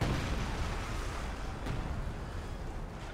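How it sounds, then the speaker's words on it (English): Distant artillery barrage in Company of Heroes 2 on a winter Oka River map: a steady rumbling wash of far-off shell impacts with a few sharper thuds, fairly loud and continuous, with no voices. "that artillery is very sporadic, considering that it's very far away"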